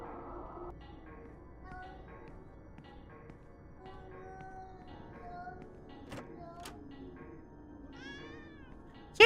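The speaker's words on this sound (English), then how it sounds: "Kitties!" Cats in the video game Yuppie Psycho give soft, repeated meows over a quiet ambient backdrop, several overlapping calls at low volume, ending with a brief sharp sound.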